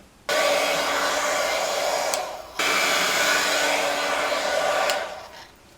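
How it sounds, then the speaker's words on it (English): A heat tool dries embossing on a wood slab ornament, blowing in two steady, close, airy bursts of roughly two seconds each, separated by a short gap. No one speaks. "let me give it a little heat tool so that it's"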